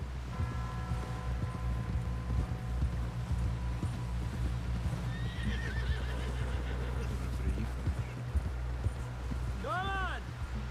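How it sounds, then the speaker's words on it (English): Horses whinny and snort amid clip-clopping hooves in Red Dead Redemption 2, with a sharp neigh near the end over steady background ambience and a voice speaking. "Someone help John down off this horse."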